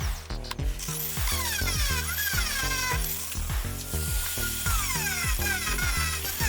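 A rotary tool polishes a sterling silver name tag, whining through quick rising and falling pitch sweeps as the piece is worked, with busy grinding and rubbing throughout at close range.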